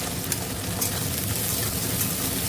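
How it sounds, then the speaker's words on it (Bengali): Onions frying in hot oil for Bengali-style Kolkata chicken biryani, a dense, continuous sizzle with crackling bursts, close and steady throughout with no talking. "এইবার এই পেঁয়াজগুলোকে ভালো করে ভাজবো"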